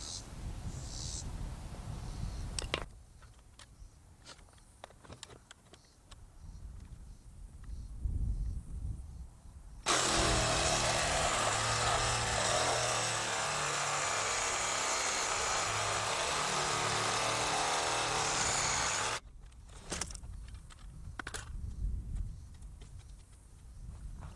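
A power saw cuts through PVC vent pipe with a loud, sustained whining buzz lasting about nine seconds, framed by quieter handling noises before and after.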